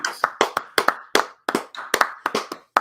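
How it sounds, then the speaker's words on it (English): Sparse, close hand claps ring out for Missy Elliott getting her Walk of Fame star, a small group clapping unevenly in quick bursts rather than a full crowd, crisp and fairly quiet. "Can we get a round of applause for that?"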